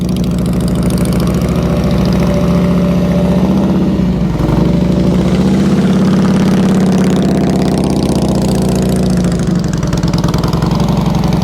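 A motorcycle engine held at low speed during slow-speed riding practice, its steady mid-low throttle drone running loud and close throughout, dipping briefly partway through before settling back into an even, continuous rumble.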